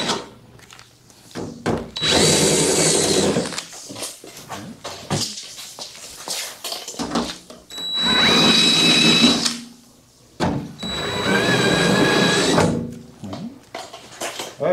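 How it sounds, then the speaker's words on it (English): A power drill fitted with a deburring bit smooths the rough edges of holes drilled in the sheet-metal trunk lid of a widebody Mitsubishi 3000GT VR4, in three loud, close whining bursts of several seconds each separated by short pauses. "What this is a deburring bit, so it takes the rough edges off of our metal."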